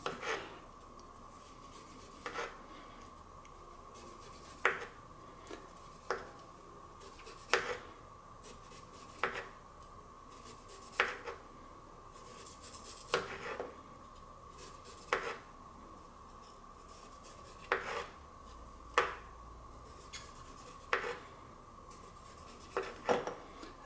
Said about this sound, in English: So I'm just taking off the ginger skin.